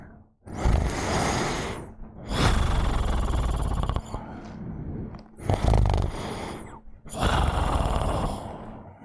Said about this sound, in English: You hear it ever so slightly, snoring.